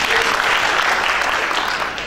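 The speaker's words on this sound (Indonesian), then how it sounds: "Tepuk tangan buat Tuhan Yesus." Church congregation clapping in a dense, sustained burst of applause that fills the room for about two seconds with no speech over it.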